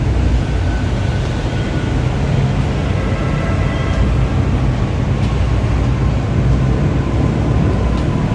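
Interior of a moving MRT commuter train in Manila, a steady loud low rumble of wheels and motors with faint rattles and no one speaking.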